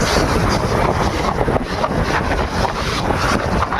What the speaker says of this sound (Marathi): अति प्रचंड वेगाने वारा आहे